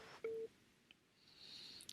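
Telephone line tones for a caller phoning into a broadcast: one short clear beep, then faint line noise and a quiet rising tone, all low in level.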